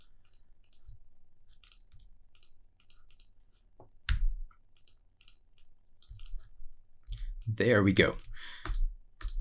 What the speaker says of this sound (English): as I'm clicking this button, sending a bang to random 7